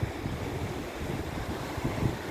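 Ocean waves wash onto Maremonte public beach in Northern Cyprus, a continuous rough rush of surf mixed with buffeting wind noise on the microphone, with no voices.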